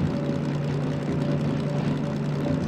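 DM3 diesel locomotive engine in Derail Valley under throttle, a steady, loud, close diesel drone with a firm low hum and constant mechanical texture throughout, no voices.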